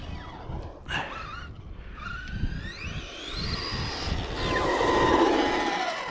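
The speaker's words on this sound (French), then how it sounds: "freinage à fond" A car brakes hard and its tires skid with a rising screech that grows louder toward the end, over road and engine rumble.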